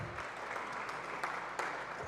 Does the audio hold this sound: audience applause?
yes